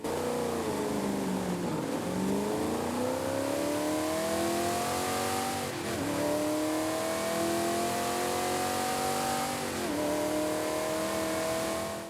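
Shelby GT500 in Forza Horizon 5 revving hard and steadily for about twelve seconds, rising engine notes swelling with several dips where the revs drop and climb again, loud and close with no voices.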